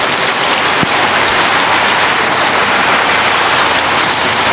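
Steady rain pours down over a tropical farm plot with durian and coconut trees, a dense, continuous hiss close by with one brief knock partway through.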